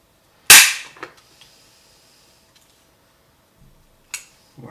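A small stapler snaps shut with one sharp, loud crack like a cap gun, followed by faint clicks and a second softer snap near the end, with no talk.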